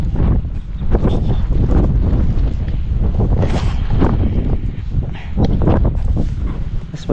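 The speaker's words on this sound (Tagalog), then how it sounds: "Lakas ng hangin." Strong wind buffets the microphone continuously with heavy low rumbling gusts, loud and unbroken throughout.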